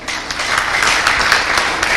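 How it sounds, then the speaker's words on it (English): Audience applause at a tech conference session, a dense, even wash of many hands clapping at steady loudness throughout, with a few sharper individual claps standing out. "Clap now."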